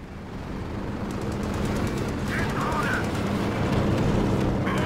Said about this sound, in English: Massive payload drop on that MG team.